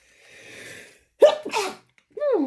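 A single close, sharp sneeze bursts out indoors, followed by a brief vocal sound afterward, with a soft breathy hum just before.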